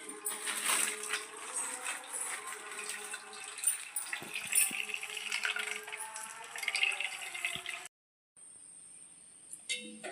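Soaked ground coconut paste squeezed hard through a net cloth to press out coconut milk in a home kitchen, wet trickling and dripping with soft squelches, then a pause and faint drips.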